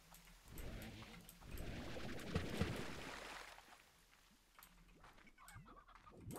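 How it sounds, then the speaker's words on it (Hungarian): Chickens in the Slime Rancher video game cluck and squawk in a busy, overlapping flock, moderately loud over a steady game background hum. "itt még hallok csirkéket"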